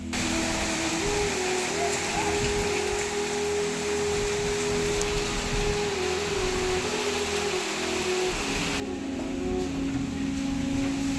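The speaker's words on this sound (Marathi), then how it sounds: "खूप जोरात पाऊस आहे आणि बाहेर." Heavy unseasonal storm rain pours outside in a steady, loud broadband wash, with a low mechanical hum running underneath, continuous throughout before thinning slightly near the end.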